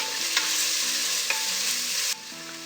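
Onions sauté in a pan for a parboiled-rice beef biryani, with a loud continuous sizzle and a couple of stirring scrapes close by, the frying noise dropping somewhat near the end.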